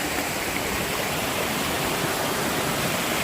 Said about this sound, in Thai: ไอ้เนี่ยน้ำตกเขาพนมสาร ก็อาจจะเป็น สิ่งที่งามทางธรรมชาติ วันนี้พามาฟังเสียง